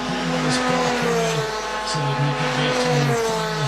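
Rotax DD2 Masters karts at a Formula K championship round in Benoni race close together, their buzzing engines droning steadily with rising and falling pitch as a commentator talks over them.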